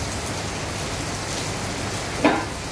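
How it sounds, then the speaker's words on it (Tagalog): Heavy rain pours steadily in Rovinj, Croatia, outside a seaside restaurant, a dense continuous hiss of falling water with one brief louder splash or knock near the end, no voices heard. "Lakas ng ulan."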